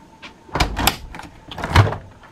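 Drawer of a refrigerator in a 2016 Thor Outlaw 29H RV sliding and bumping shut, a few close clunks and rattles in a short burst with no talking.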